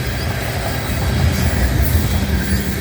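A southbound CN freight oil train passes close and loud, hauled by CN ET44AC, SD70M-2 and ES44DC locomotives, with a continuous heavy rumble of rolling railcars and faint wheel squeal and no voices.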